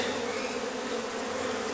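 Honeybees fly in to a WBC hive on a farm, a steady close buzzing hum with no pauses and no voices.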